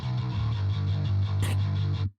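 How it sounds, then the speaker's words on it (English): A heavily distorted, gritty bass line plays alone, sustained and loud, with a brief bright burst near the end before it cuts off. "And then there's the distortion track."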